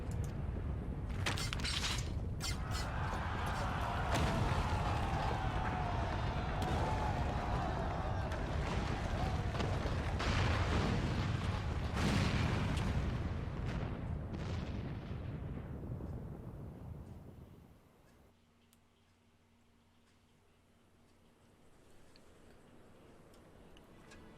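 Artillery barrage and a collapsing tower in Final Fantasy XIV: dense rumbling blasts and crackling impacts pile up for about fifteen seconds, then fade into quieter ambience, with voices speaking over the chaos.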